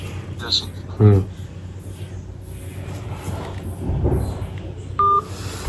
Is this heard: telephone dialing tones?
yes